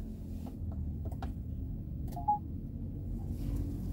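A short electronic beep from the infotainment telephone function in a Tank 500 hybrid SUV cabin, a single faint tone over a low steady hum of the interior.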